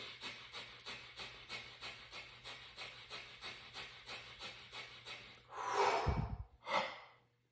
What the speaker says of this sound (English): I love Kundalini breathing, fire breathing, right? It goes like this.